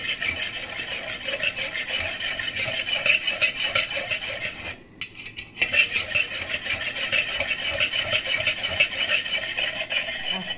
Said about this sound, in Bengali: এখন আমি এটাকে খুব ভালো করে দুধের সাথে মিক্স করে নেব।